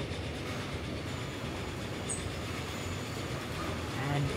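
A passenger train in the Transport Fever game on a Washington to Toronto route rolls into a station, a steady rumbling rail noise with faint wheel clatter and a brief high squeal, continuous and moderately loud.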